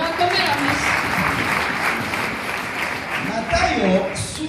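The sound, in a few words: congregation applause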